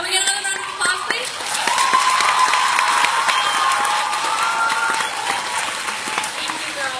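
Steady, loud applause from an audience at a closing ceremony, dense clapping running continuously with crowd murmur and a tonal hum behind it.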